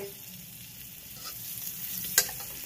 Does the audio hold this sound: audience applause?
no